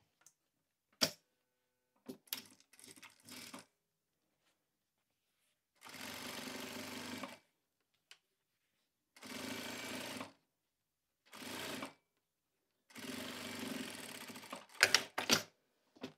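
Sewing machine stitching fabric close to the teeth of a zipper while making a structured tote bag, in several separate bursts of steady motor whirring, each a few seconds long, with short clicks and pauses between them.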